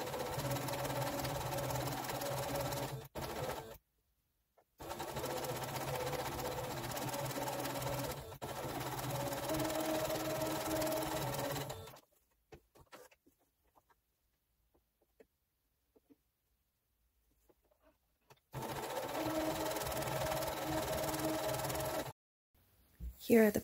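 A sewing machine stitches quilt pieces in long, steady runs of close mechanical whirring, broken by a few short pauses and one long one, with speech in the clip.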